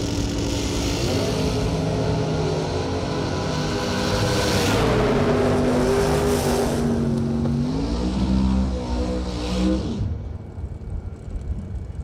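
Door car drag racing round at a Christmas Bash event: a loud, close engine roar revving and accelerating with rising and falling pitch through several gear changes, fading off near the end.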